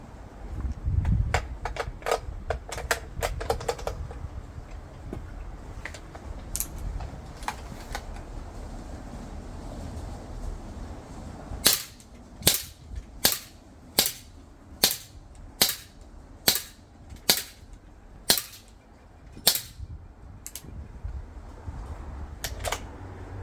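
A CO2-powered 4.5 mm L1A1 SLR replica air rifle fires about ten sharp, evenly spaced cracks in the second half, after earlier lighter mechanical clicks and handling noise over a low hum.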